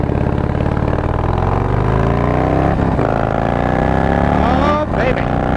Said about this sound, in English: excuse me real quick while I grab a handful of throttle